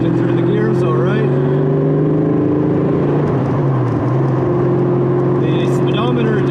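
A 1988 Ford Mustang Foxbody with a DECH engine pulls under power through the gears, its steady engine drone rising and falling close by as shifts break the note, with a person talking over it.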